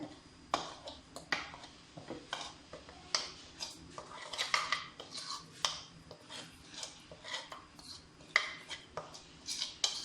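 Spices being stirred into potato pakora batter in a bowl, with a steady series of quick scraping and clinking strokes of a utensil against the dish, close and fairly quiet, with no talking.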